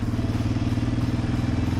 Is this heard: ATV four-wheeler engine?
yes